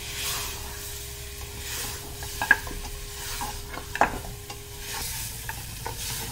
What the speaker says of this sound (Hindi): अब मैं डालती हूँ अपने ये खरोड़े। अच्छी तरह भून लेते हैं।